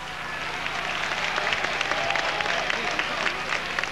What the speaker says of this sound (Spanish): le damos un aplauso también a María Eugenia